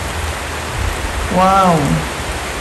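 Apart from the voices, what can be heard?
rain falling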